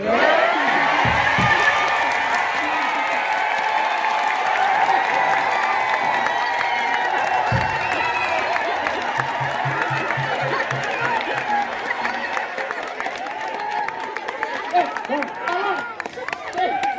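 Crowd applause and cheering with scattered whoops rolls through an audience at a Wayang Orang Bharata performance at TMII, continuous and broad, with voices talking over it throughout.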